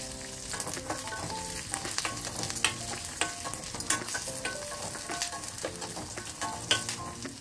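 Green chilies, red chilies and ginger roasting in oil in a pan for a spicy tomato chutney, a steady close sizzle broken by scraping stirs and light clinks, with no talk.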